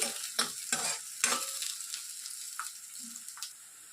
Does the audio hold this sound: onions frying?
yes